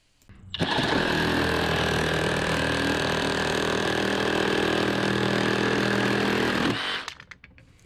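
A Flex cordless reciprocating saw cuts through material in one continuous loud, buzzing run of about six seconds. It starts and stops abruptly, with nobody speaking during the cut.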